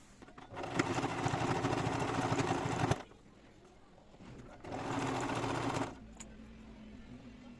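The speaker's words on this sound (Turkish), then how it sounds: "Şimdi ben dikiş kısmına geçiyorum." A sewing machine stitches a fabric door organizer in two steady whirring runs of about two to three seconds each, separated by a quiet pause, fairly close and with no voice over it.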